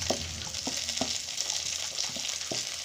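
Onion, garlic and capsicum frying for veg fried rice, a steady close sizzle with regular clinks and scrapes of a spatula stirring the pan, no one talking.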